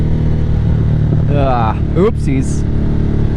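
A Harley-Davidson Nightster motorcycle engine drones loudly and steadily throughout, a close continuous rumble, while a person briefly speaks over it.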